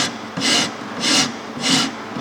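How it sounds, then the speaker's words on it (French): A hand plane shaves wood in three steady, evenly spaced strokes, each a loud, close, rasping swish with short pauses between, and no talking. "Ah, mon rabot."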